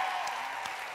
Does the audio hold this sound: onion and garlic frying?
no